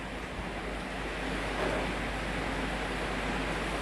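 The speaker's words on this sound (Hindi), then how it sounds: "देख सकते हैं किस प्रकार से समुद्र उफान पर है।" Rough sea surf pounds a beach at Digha during Cyclone Yaas, a dense continuous roar of crashing waves mixed with strong gusting wind buffeting the microphone, steady and loud throughout with no voices.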